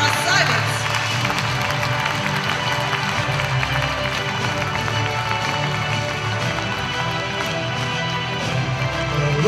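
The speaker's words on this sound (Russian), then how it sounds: "Ваши аплодисменты для наших красавиц." Audience at the Miss CIS 2022 beauty pageant gives a sustained, dense burst of clapping for the ten finalists, loud and even throughout with crowd noise underneath.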